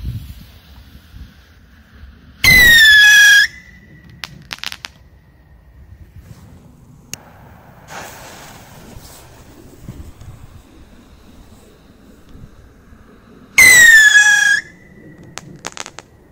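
A VR-1 firework rocket fired outdoors gives two loud, piercing whistling screeches several seconds apart, with faint crackling and rustling in between.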